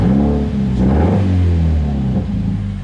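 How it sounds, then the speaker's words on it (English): A Scion FR-S engine revving as the car drives, heard from inside the cabin: a loud, deep rumbling drone that rises and falls steadily with no talk. "Car sounds mint."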